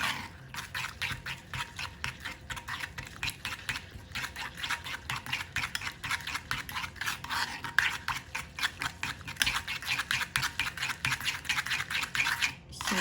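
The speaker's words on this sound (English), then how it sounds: "So keep on blending until it is good." Peanut spicy sauce for cold noodles being stirred and mixed in a steady, rapid scraping rhythm, continuous and moderately close for the whole stretch with no talk.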